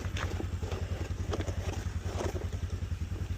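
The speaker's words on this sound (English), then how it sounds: "This is a border horse, Angel." A horse's hooves clip-clop close by on a farm during feeding time before a big storm, a fast, even, unbroken rhythm of hoofbeats that holds steady throughout.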